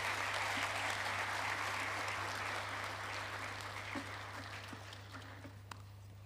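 Audience applause at a college founding chancellor inauguration ceremony in Kigali, sustained dense clapping that slowly tapers off, heard over a steady low electrical hum.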